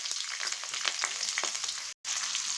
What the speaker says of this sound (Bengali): টমেটোটাকে এরকম করে যতক্ষণ না একটু নরম হচ্ছে ততক্ষণ পর্যন্ত এইভাবে একটু ভেজে নিতে হবে টমেটোটা